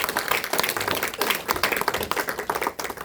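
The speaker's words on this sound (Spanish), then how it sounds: "¿Cuánto le dan un aplauso al Señor?" A church congregation claps and applauds together, a dense burst of hand claps that stays loud and steady throughout.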